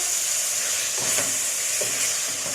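Dry spices (turmeric, coriander and crushed dried red chillies) fry in a pan for mutton liver masala, giving a steady close sizzle with light stirring scrapes throughout, no voices.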